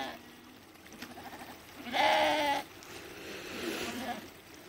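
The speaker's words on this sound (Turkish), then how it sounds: "Şu anda koyunlarımızı doyurduk." Sheep bleat at a spring-fed watering spot in a Turkish pasture: a few soft calls, then one loud, close, wavering bleat midway, followed by quieter bleats and outdoor background.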